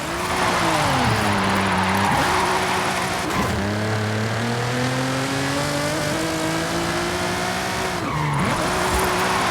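Nissan GT-R drift car sliding sideways in Forza, engine revving hard with shifting pitch through several gear changes while tires squeal continuously, loud and close, with no talking.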